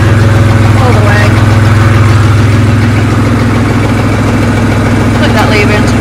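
A Siromer 304 tractor engine idles with a loud, steady low diesel rumble that continues without a break, a flail mower hitched behind it.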